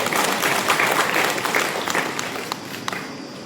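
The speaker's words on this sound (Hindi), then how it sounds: "इनके लिए जोरदार तालियां बजाएंगे।" Applause at a church confirmation question-and-answer session, rewarding a correct answer: a room of people claps briskly together, then the clapping thins and trails off.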